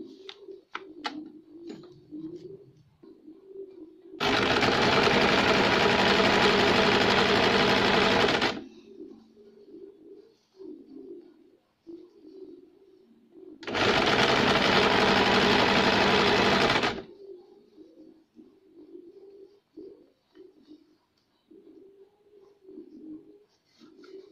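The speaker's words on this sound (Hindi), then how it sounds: "अब इसके ऊपर हम एक सीधी सिलाई लगाएंगे।" A sewing machine stitches a straight seam on a cuff sleeve in two loud bursts of several seconds each. Quiet gaps between the bursts carry soft pigeon cooing and faint room noise.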